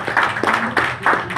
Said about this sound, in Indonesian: Tepuk tangan untuk SOP.